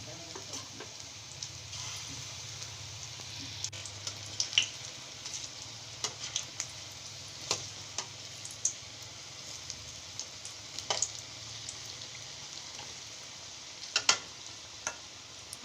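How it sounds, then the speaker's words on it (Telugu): Cauliflower pakoda pieces frying in hot oil in a pan: a steady close sizzle with scattered sharp pops and crackles throughout, no talking. "ఇప్పుడు ప్యాన్ పెట్టుకొని నూనె వేడైన తర్వాత ఒక్కొక్కటిగా తీసుకొని అందులో"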